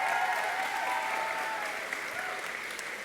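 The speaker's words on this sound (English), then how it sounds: "Give yourselves a round of applause." Graduates at the class of 2019 graduation ceremony clap in a steady, sustained round of applause, a dense wash of many hands filling the hall at moderate level without a break.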